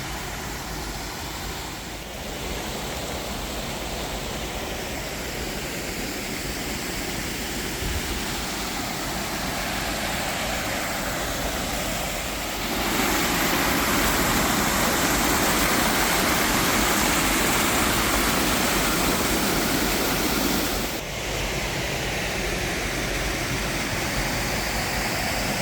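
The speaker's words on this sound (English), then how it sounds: "And there it is, Reynolds Hollow Falls." Reynolds Hollow Falls, a waterfall on a hike in Madison County, Arkansas, roars as a steady broadband rush that grows noticeably louder and fuller midway as the falls come closer, then eases slightly, with no voices.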